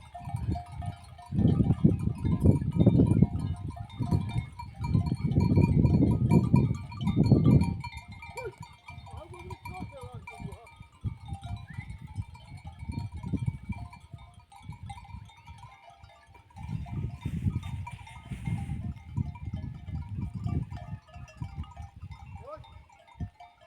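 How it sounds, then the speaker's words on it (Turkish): Sheep bleat on an open hillside during a walk, with a cluster of loud, overlapping calls early on and more scattered bleats later, set against a steady outdoor background. "Koyunlar tepeyi aşacak sanırım."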